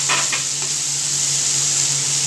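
Chicken noodles with spring onion stirred in a hot pan, with loud continuous close frying and sizzling, plus a few spatula scrapes at the start.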